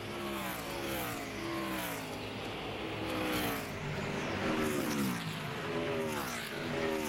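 NASCAR Nationwide Series stock cars, including Joe Gibbs Racing Toyotas, roar around the Dover oval, engines rising and falling in pitch as several cars pass in a continuous, distant-to-near wash of racing noise.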